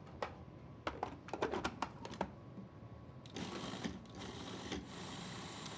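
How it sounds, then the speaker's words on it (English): A food processor purees citrus juice and segments with granulated sugar, giving a steady whirring grind that follows several short clicking pulses, close up and with no talk. "add the juice and the segments or supremes to our food processor bowl. Add in a cup of granulated sugar, puree that together"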